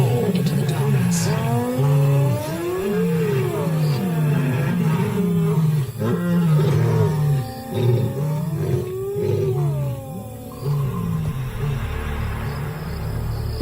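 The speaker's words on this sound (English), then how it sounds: "Night after night, the hyenas and the cats roar into the darkness." Lions and hyenas call into the night in an African wild setting, a loud, near chorus of deep rumbling roars and rising whoops that swell and fade in overlapping waves.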